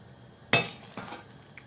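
A utensil clinks sharply against a metal pot while leaf manti dough cooks in boiling water, one loud strike followed by two softer taps, alone.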